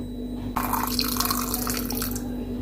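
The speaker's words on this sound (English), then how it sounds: "So I'm gonna pour my water in right now" Water pours steadily into a NutriBullet blender drinking cup, starting abruptly after a short pause and running as a continuous close splashing stream until the end.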